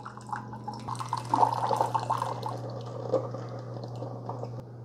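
Keurig K-Supreme coffee maker dispensing hot water during its cleansing brew, a trickling, dripping stream into a cup over a steady low machine hum, close and moderately quiet.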